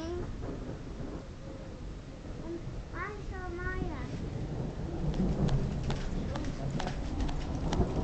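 Thunderstorm with rain pattering steadily and low thunder rumbling through, swelling louder toward the end; a voice rises briefly in the middle over the storm.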